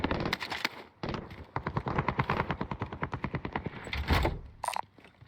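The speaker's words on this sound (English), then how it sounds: "He had a machine gun." Rapid, sustained automatic fire from a machine gun in a video game, dozens of evenly spaced close shots in a long burst, followed by a louder blast and a few scattered sounds.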